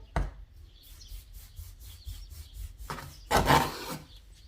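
A knife cuts through soft torhon dough on a wooden board, giving short rasping scrapes and light taps at irregular intervals, close and fairly quiet, with a longer drawn cut near the end.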